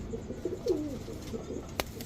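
Khulna red-necked pigeons, a male and a female, give a soft low coo partway through amid quiet background noise.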